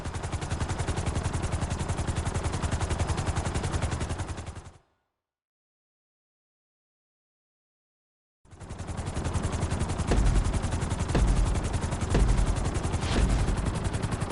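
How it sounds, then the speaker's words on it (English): Helicopter in a video game flight lesson: a loud, steady rotor chop with a rapid pulsing beat, cut to total silence for several seconds, then returning just as loud with a few heavier thumps. "we're gonna put you in a helicopter for this lesson"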